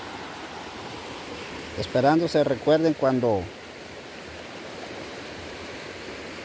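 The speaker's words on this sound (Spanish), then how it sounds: "Media vez truena y viene la creciente" A rising river in flood rushes during a storm, a steady broadband roar that runs through the whole stretch, while someone speaks briefly in Spanish over it midway.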